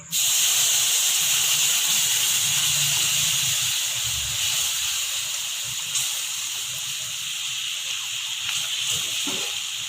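Milk poured into a hot pan for chicken cheese pasta, setting off a loud, steady hiss that starts abruptly and holds for the whole stretch, with faint clatter underneath.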